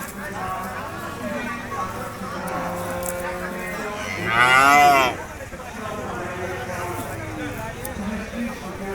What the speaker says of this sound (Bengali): এখানে দেখতে পাচ্ছেন একটা গরু